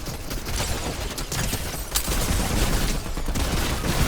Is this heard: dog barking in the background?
no